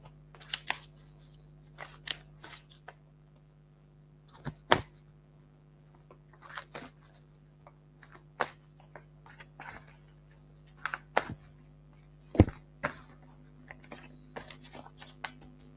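Tarot cards shuffled and handled for a reading: a string of short, crisp papery riffles and taps, some sharp, scattered across the stretch over a steady low hum, with no talking.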